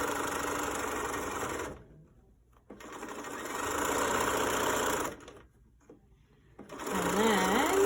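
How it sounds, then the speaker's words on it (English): A sewing machine stitches a fabric mask with a 1/4 inch seam, humming in three steady close bursts separated by short pauses. "I'm going to sew along the top edge and the bottom edge, but leave the ends undone"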